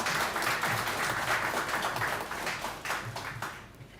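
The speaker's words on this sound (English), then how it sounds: "Let us give him another round of applause" An audience at the launch of the Kalinago Development Fund applauds Minister Frederick, a steady, full round of clapping from a crowd that fades slightly toward the end.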